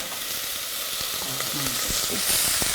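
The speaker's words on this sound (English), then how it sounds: "So we're just going to let that fry a bit." Onion and chilies frying in oil in a pot, a steady loud hiss and crackle with scattered light pops and a few soft scrapes.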